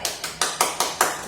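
A church congregation at a Sunday worship service claps in unison, six crisp, evenly spaced claps at a quick steady beat, with no talking over them.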